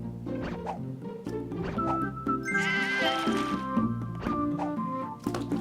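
Sheep bleat repeatedly in the video game Divide by Sheep, one long wavering bleat standing out among shorter calls, over soft game thumps and effects.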